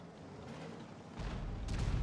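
A tank cannon fires in the World of Tanks video game as a heavy, booming blast that swells over the ambient battle noise, followed by a second rumbling burst, with no talk.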